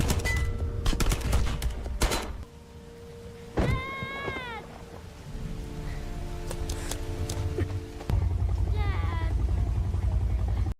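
Bursts of gunfire in a film scene ring out in rapid clusters at the start, mixed with sharp cracks and shouting, then fade under ongoing dialogue and music.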